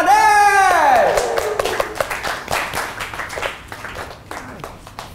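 A stand-up comedy audience claps for a comedian making his debut. The applause is brief and thins into scattered claps, and a voice speaks loudly over its first second.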